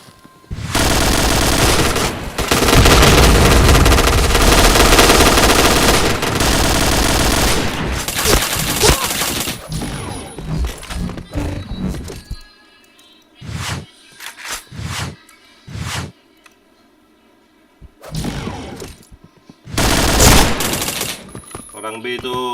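Gunfire rings out in a Counter-Strike-style shooter match, first long dense bursts of automatic fire, then scattered single shots and short volleys with gaps between, loud and close, while players talk over it.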